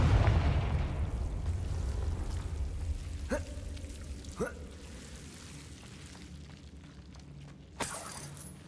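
A Confringo blasting spell goes off in Hogwarts Legacy: a loud burst opens and fades into a rumbling, crackling tail. A few sharp cracking impacts follow later, with the last one near the end.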